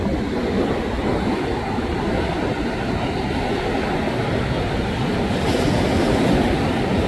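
Ocean waves washing onto a sandy beach, a steady loud broadband roar of surf rolling on without pause, close by and with no voices.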